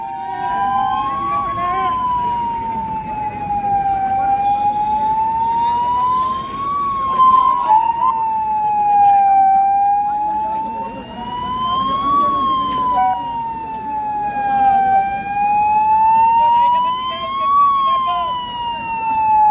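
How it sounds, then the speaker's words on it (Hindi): A blackout warning siren wails across Chittorgarh, rising and falling in slow, regular cycles. It is loud and continuous, with faint traffic and street noise underneath. "यह आप सुने, मैं आपको सुनाता हूँ एक बार फिर से यह सायरन की आवाज़।"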